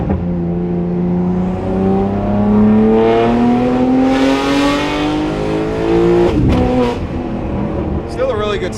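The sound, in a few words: BMW G8x M3 S58 engine exhaust during downshifts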